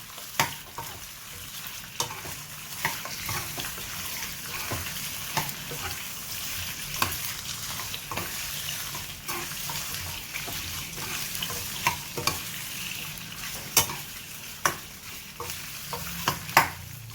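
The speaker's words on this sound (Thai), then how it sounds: "ฉาแค่ให้หนังมันตึงนะครับ ไม่ต้องให้สุกนะครับ" Chicken feet fry briefly in hot oil to tighten the skin, a constant close sizzle punctuated by repeated sharp clacks and scrapes of a utensil stirring in the pan, no voices.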